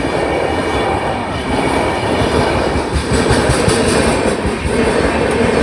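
A railway train passes close by at a level crossing, a loud steady rumble with rhythmic clickety-clack of wheels over the rails throughout.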